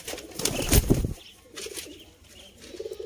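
A pair of teddy pigeons, Sialkoti kabootar, give a sudden loud flurry of flapping wings followed by soft, low cooing close by.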